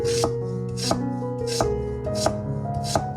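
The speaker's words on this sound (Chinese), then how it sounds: "再切成薄片，切得稍微薄一点，方便蒸熟" A knife cuts a peeled sweet potato into thin slices on a board, making five crisp, regular strokes roughly two-thirds of a second apart, close and clear with no voices.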